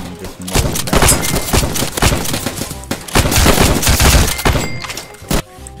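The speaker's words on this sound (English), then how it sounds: "they just run in with the machine gun and just mow them down" Machine gun fire in the Roblox Trenches video game, dense bursts of rapid loud shots rattling almost continuously, with a short pause and a final isolated burst near the end.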